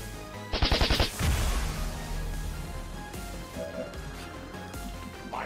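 A burst of rapid gunfire in X-Com 2: War of the Chosen rattles off in a quick volley of sharp shots, then fades into a low rumbling game ambience with faint effects.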